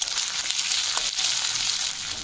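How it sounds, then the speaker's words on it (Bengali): Ginger paste fries in hot oil in a pan, a continuous close sizzle with a faint stir partway through. "আদাটা খুব ভালোভাবে আমার ভাজা হয়ে গেছে।"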